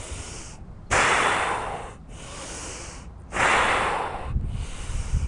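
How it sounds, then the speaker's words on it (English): Big, loud breaths pushed forcefully in and out during spinal breath-work, coming as close, hissing bursts in a steady rhythm of about four strokes without any talk. "just big loud breaths."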